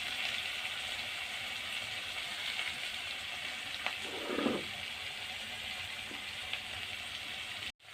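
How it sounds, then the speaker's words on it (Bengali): Ginger garlic paste frying together with onion paste in a pan, a soft continuous sizzle with a brief louder stir-like swish midway and a sharp knock near the end. "পেঁয়াজ বাটার পরে এখানে আমি আদা রসুন বাটা দিচ্ছি"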